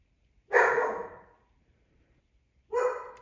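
Two loud, close dog barks ring out in an otherwise quiet room, separated by roughly two seconds of silence.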